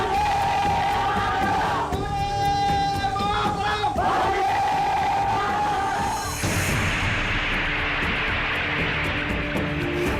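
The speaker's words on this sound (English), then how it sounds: "Outside Parliament, the crowd swelled dramatically." A huge jubilant crowd fills the night outside Parliament on independence night, a roaring, cheering mass of voices heard at a distance, with sustained shouts and swells, loud and continuous throughout.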